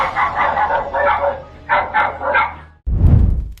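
Stray dogs bark on a CCTV recording, a run of sharp, mid-pitched barks in quick bursts, followed by a lower, rougher bark from a nearer dog at the end.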